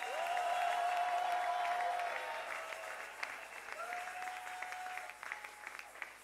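Church congregation at an evangelical conference applauding and cheering to acclaim the Lord, a dense wash of clapping that swells loud at first then thins out, with a sustained tone ringing above it.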